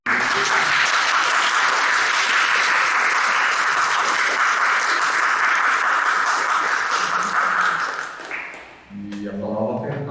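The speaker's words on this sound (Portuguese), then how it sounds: "uma salva de palmas" Sustained applause from an audience at a university talk with a Polish journalist and writer, a dense steady patter of many hands lasting about eight seconds before fading into murmured voices.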